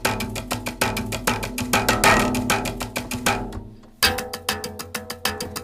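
Multi-sampled brushed string sounds are triggered by a step sequencer in a quick, steady pattern of crunchy percussive hits. They pause briefly and then resume, close and loud with no voices.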